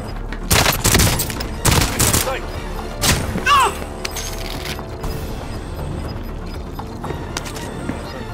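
Several sharp pistol shots from Call of Duty Modern Warfare 2 crack loud and close in quick bursts early on, followed by a few more isolated shots and then a quieter stretch of game ambience.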